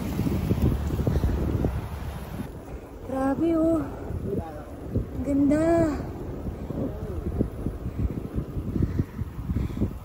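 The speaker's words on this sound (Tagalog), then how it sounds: "Lakas lang ng hangin." Strong mountain wind in the Sierra Madre near Pililia, Rizal, rumbles and buffets close to the microphone in gusty waves, with a person speaking briefly over it.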